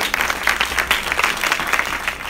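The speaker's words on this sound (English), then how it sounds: "Give them a good round of applause." Audience applause after a Q&A session at a Los Angeles documentary premiere, a dense burst of clapping from a crowd, loud and sustained throughout.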